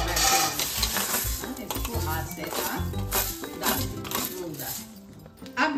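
Moong dal being stirred into boiling water in a pot while cooking temple-style bhog khichdi, with steady scraping and clinking of a utensil against the pot over a bubbling boil, close and continuous, with a voice talking throughout.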